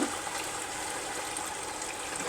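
About one and a half cups of water pours steadily into a pot for biryani, a continuous gushing splash at close range with no other sounds.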